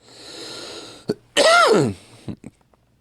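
A single harsh throat-clearing cough, close and loud, with a couple of small rough throat sounds after it.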